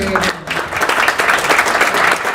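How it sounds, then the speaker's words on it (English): Audience applause for the Georgia Secretary of State at the Buckhead Club in Atlanta, a short, loud burst of clapping from a room of people, with some voices chattering underneath. "a round of applause for the Secretary of"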